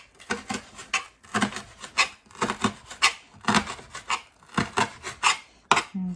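A knife finely chopping frozen dill on a board, a steady series of about a dozen sharp, close chopping strokes in irregular clusters, with no talk.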